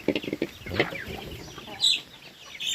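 Native chickens on a farm, fed cracked corn, clucking in short bursts of soft, close calls, then a sharper squawk near the end against quiet outdoor background.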